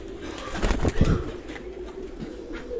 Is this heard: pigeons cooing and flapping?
yes